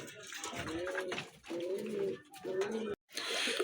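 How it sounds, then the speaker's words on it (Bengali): Lahori pigeons kept for sale coo in repeated soft, throaty phrases, close by, with short gaps between calls and a brief silence near the end, without speech. "আরেক জোড়া লাহরি কবুতর দেখতে পাচ্ছেন খুবই সুন্দর"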